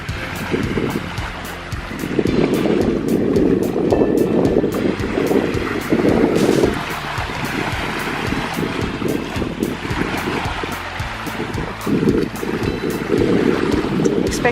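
Ocean waves wash over a beach at high tide in a nature park, a continuous rushing surge with swells that rise and fall, heavily mixed with buffeting wind noise on the microphone.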